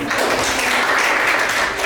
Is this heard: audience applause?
yes